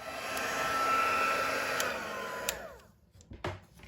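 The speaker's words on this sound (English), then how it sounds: "you're going to use your heat tool here to set it" A heat tool blows with a steady whirring, loud roar while setting white embossing powder on a paper craft, then shuts off and winds down near the end, followed by a few soft handling clicks.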